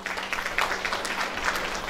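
Applause from an audience at a college golden jubilee honouring ceremony, greeting a former principal; a steady, moderately loud wash of clapping that holds evenly throughout, with a faint hum underneath.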